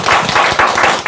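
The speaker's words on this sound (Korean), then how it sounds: "박수." An audience claps loudly and steadily at a year-end event, with dense overlapping applause filling the short moment.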